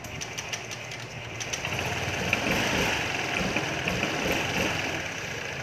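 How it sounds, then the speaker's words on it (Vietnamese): A 2018 Honda Lead scooter with a faulty starting system idles steadily nearby, a low uneven engine rumble with faint knocking, fairly quiet and without talk. "con xe này nổ máy ok rồi"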